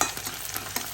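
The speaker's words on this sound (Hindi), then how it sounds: "एपटे पियाज फ्राए करुछि" Onions frying in a pan at home, a steady soft sizzle with light stirring scrapes, close and alone for under a second.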